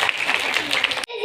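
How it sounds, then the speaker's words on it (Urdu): Audience applause welcoming a speaker onto the stage at a school inter-house competition, a steady dense burst of clapping from a crowd that cuts off abruptly, followed by a brief tone. "زوردار تالیوں میں ان کا استقبال کیجیے"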